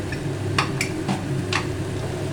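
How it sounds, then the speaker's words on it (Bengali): A ginger spice paste is stirred and sautéed in a pan, with about four quick scraping clinks of a utensil against the metal over a low background. No voices are heard. "মশলাটা কষিয়ে নেব, আদার গন্ধটা যাওয়া পর্যন্ত একটু কষিয়ে নেব।"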